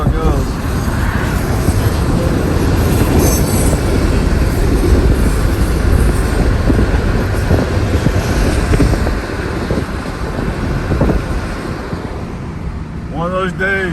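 A long, fast freight train hauled by four locomotives, two leading and two distributed power units, rumbles past close by in a loud, steady roar, with a voice speaking over it.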